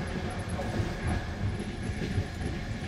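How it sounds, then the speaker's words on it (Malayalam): Trans-Siberian Railway train rolling along the tracks on the approach to a city's outskirts, a steady close rumble with a soft, uneven rhythmic clatter of wheels and no voices. "നഗരത്തിന്റെ പ്രാന്തഭാഗത്തേക്ക് ട്രെയിൻ അടുത്തുകൊണ്ടിരുന്നു."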